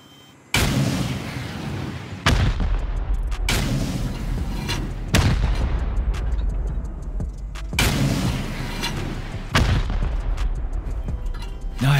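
Five loud, close rocket launches in a video game fire one after another, each a sharp broadband blast trailing into a roaring rumble, spaced about two seconds apart with continuous low engine drone underneath.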